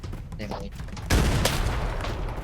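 MPX submachine gun fire in Arena Breakout, a burst of loud, close gunshots erupting after a quieter opening with faint talk, then sustained rattling fire and crackling echo to the end.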